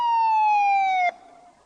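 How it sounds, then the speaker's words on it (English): A police car siren sound effect plays loud and close as one long, slowly falling wail that cuts off abruptly, leaving a fainter tail. "A police car came to the telephone box."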